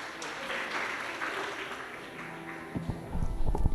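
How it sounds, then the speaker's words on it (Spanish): Audience applause in an indoor hall welcoming a doctor introduced at a medical talk, a steady clatter of clapping that swells louder and closer toward the end. "lo recibimos con fuertes y calurosos aplausos"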